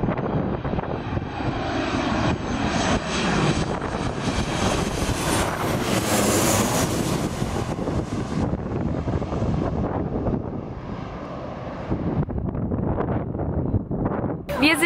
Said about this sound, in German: Wir sind jetzt auf einer kleinen Insel kurz vor dem Flughafen und deswegen hört man hier auch über Flugzeuge.